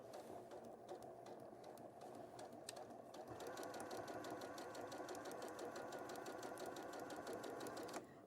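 A sewing machine stitches along fabric, its motor starting quietly then running at a steady faster pace for several seconds, a close mechanical hum with rapid regular needle clatter and no talking.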